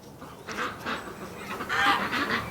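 Ducks at a rescue flock on a brisk winter morning, gathered around the front of their pen, give a run of honking, goose-like calls in several bursts, moderately close with no talk.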